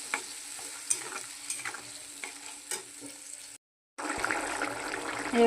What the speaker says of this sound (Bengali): মশলাটা আমার কষানো হচ্ছে